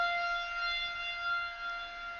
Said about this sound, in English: when the air raid siren, the tornado siren, is tested.